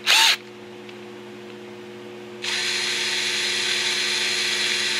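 Power tool cutting with a quarter-inch four-flute bit while customizing a 1997 Corvette, a brief high whine at the start, a quiet hum, then a sustained loud high-pitched cutting whir that runs to the end.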